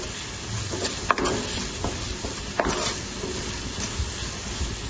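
Tomatoes being stirred with salt in a pan, a rhythmic scraping and clacking of a spoon against the metal over a light sizzle, close and fairly loud, with no talk.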